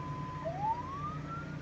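An ambulance siren in slow wail mode, its pitch gliding gradually upward, steady and moderately loud with low rumble underneath.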